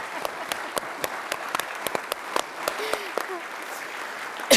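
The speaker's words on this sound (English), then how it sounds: "worthy of a round of applause" An audience at a panel discussion on countering threats to free and open societies applauds, a steady patter of clapping with sharper individual claps, a few faint voices mixed in.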